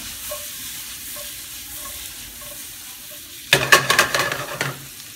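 Chanterelle mushrooms and garlic sauté in a pan with soft, steady sizzling, then a burst of louder clattering scrapes and sizzles as the pan is tossed and stirred near the end, with no talking.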